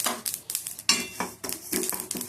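Already-roasted white sesame seeds lightly dry-roasted in a pan, stirred in short repeated scrapes and soft clinks of the spoon against metal, close and moderately loud, with no talking.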